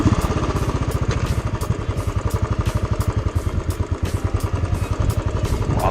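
A CSC TT250 motorcycle engine idles close by, a loud, rapid and even single-cylinder thump with a clattery mechanical edge, holding a steady rhythm throughout with no voices.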